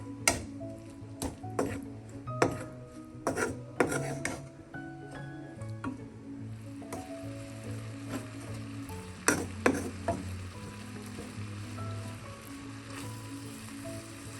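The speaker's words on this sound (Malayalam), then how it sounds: "ഇതെല്ലാം കൂടെ നമുക്ക് ഈ ഓയിലൊന്ന് മൂപ്പിക്കാം." Coriander, turmeric and garam masala powders frying in oil for a Kerala chicken curry, heard as a soft steady sizzle with repeated sharp clinks and scrapes of a spoon against the pan.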